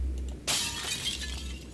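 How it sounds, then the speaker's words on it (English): A glass vial is smashed with a hammer in the video game Shadowgate, a single sudden crash of shattering glass followed by a brief tinkling tail. "let's try smashing it with our hammer here."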